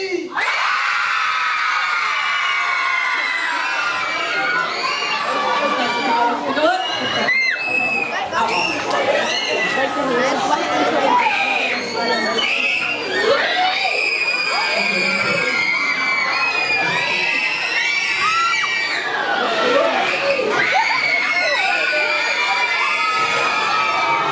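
A large crowd of ninth-grade students at Islev Skole's 2013 last-school-day show shouts, screams and cheers continuously, loud and close, with whoops and voices rising and falling throughout.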